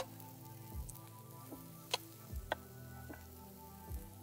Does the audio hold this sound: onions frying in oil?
yes